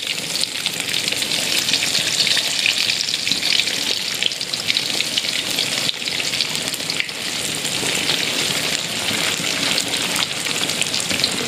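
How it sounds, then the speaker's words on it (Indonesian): Shallots, garlic, chili, tomato and shrimp paste fry for sambal in hot oil, a loud, continuous, dense sizzle heard up close and alone throughout. "ini goreng bawang merah, bawang putih, cabai, tomat, terasi ya, ini buat sambal"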